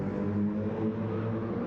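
Racing cars in a Barcelona-circuit racing video game sweep past with a steady, loud engine drone and whir, sustained harmonic tones holding throughout with no voices present.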